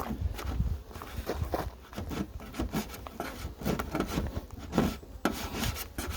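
Beeswax is scraped off a beehive roof with a hand tool, giving repeated rough close scraping strokes in an uneven rhythm with no speech.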